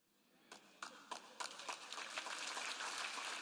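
Applause from a church audience during a sermon rises from a few scattered claps into a steady, moderately distant round of clapping that grows denser and fuller toward the end.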